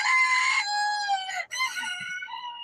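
A farm rooster crows loudly and close by, one long drawn-out call that breaks into a second rising phrase, with a faint hen cluck underneath.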